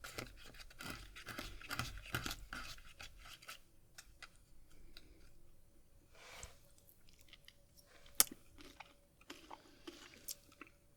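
Someone chews a spoonful of crunchy mini doughnut mix with sugary granules in a quiet kitchen. Soft, close crunches come in a quick cluster at first and then thin to scattered bites, with a sharp click near the end and no talking.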